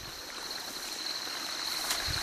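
Water overflowing a leaky weir wall and seeping under and around it gives a steady, close rushing flow. A faint high whine runs through it, with no voices.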